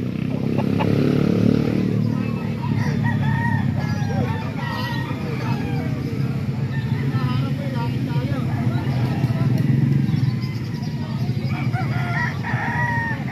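A stag gamecock crows among other chickens at a busy poultry market in Calumpit. The crowing sits under steady talk from people nearby, with some passing engine noise.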